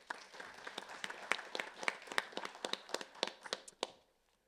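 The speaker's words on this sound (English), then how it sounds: "a round of applause for Baker Noble" An audience at a university debating society event applauds a speaker, a burst of brisk hand-clapping that builds, holds for a few seconds and then quickly fades to silence.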